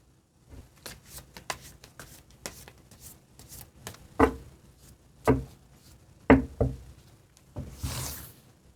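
Tarot cards are shuffled and drawn in a quiet room, with soft papery shuffling, light taps and a few sharper slaps as cards land on a surface.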